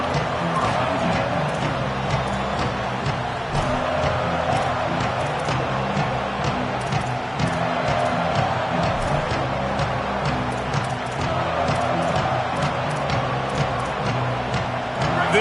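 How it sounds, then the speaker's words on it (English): Crowd at a college football stadium during a Notre Dame versus Oregon game, a steady dense roar that stays loud and unbroken throughout with no clear peaks. "This crowd ready to make its presence known."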